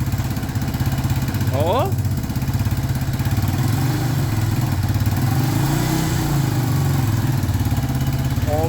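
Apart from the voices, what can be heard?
Yamaha Warrior ATV engine running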